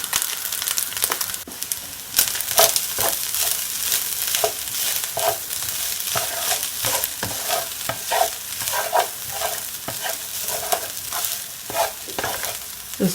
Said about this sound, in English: I'm just gonna add my eggs.